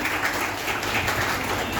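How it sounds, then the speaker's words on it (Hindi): Steady, dense applause fills a Delhi Police honour ceremony, with many hands clapping evenly and close throughout and no voices over it. "जोरदार तालियां बजाएं।"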